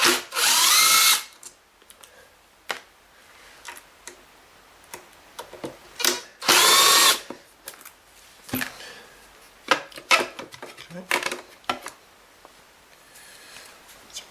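A power drill unscrewing the fasteners on a Kirby Avalir vacuum: two loud whirring bursts, each about a second long, close up, with scattered clicks and handling knocks between and after them.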